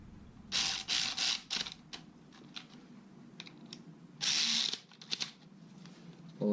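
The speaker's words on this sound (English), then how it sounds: "And you go ahead and tighten them down." Bolts being tightened on a plastic timing belt guide on a Subaru Forester engine, heard as several short bursts of ratchet clicking, close and fairly loud, separated by quieter pauses.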